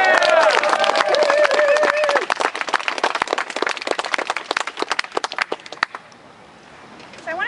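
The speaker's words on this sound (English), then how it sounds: "Can we get some applause for that?" A crowd at an Occupy Raleigh protest bursts into applause and cheering, dense clapping over shouts that gradually thins into scattered claps before fading out.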